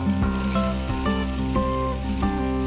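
Onions sizzling in a hot frying pan while making veg spring rolls, a steady close hiss of frying with faint clinks and a tonal hum underneath, no voices.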